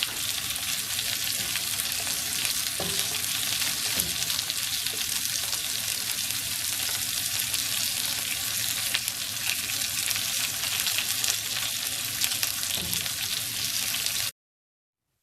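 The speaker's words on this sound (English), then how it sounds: "Pan fry the steak for about 3 minutes on each side at the lowest heat. Add the shimeji mushrooms during the final 3 minutes." A ribeye steak sizzles in a pan on the lowest heat with shimeji mushrooms added, a steady, dense crackle holding close and even for about fourteen seconds before cutting off abruptly.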